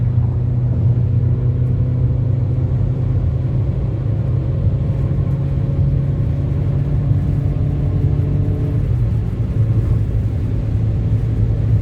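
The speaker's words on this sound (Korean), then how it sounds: "가속 한번 해보겠습니다" A 1600cc Citroën C4 Picasso accelerates from inside the cabin, a steady engine drone climbing in pitch, then dipping briefly at a gear change before rising again, loud and continuous with no talk.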